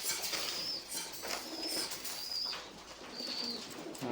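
Pigeons coo softly in an ongoing low murmur under steady background noise, with several short high chirps recurring at intervals.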